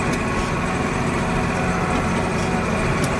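A tractor engine runs in a steady, dense drone heard from inside the cab, constant and fairly loud throughout with no break.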